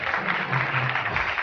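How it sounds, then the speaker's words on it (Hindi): A studio audience at a morning TV show claps together in a dense, steady burst of applause, close and even in level for a brief moment. "ताली हो जाए।"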